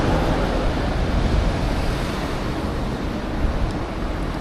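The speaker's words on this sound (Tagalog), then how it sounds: "Nandito palang may ingay na truck." Traffic on a main road in Tokyo, trucks included, makes a dense, steady roar and rumble that stays loud without a break, heard from a bicycle with no talking.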